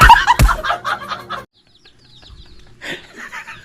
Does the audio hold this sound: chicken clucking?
yes